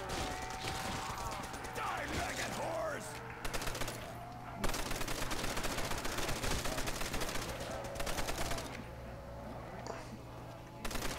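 A Browning machine gun fires in a custom zombie video game, with long rapid bursts of gunfire alternating with reload clatter and other game sounds, while voices talk over the action.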